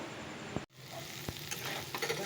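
Vegetables fry in a pan with a soft, continuous sizzle, broken by a few brief scraping stirs and one short gap, heard close and alone without talk.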